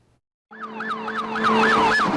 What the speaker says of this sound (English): It sure sounds like your typical police car